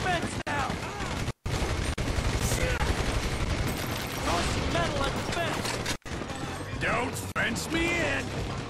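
Sustained minigun fire in Grand Theft Auto 5, a loud continuous rattling barrage with brief gaps, mixed with game effects and overlapping excited talk.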